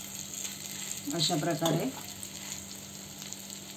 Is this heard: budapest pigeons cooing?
no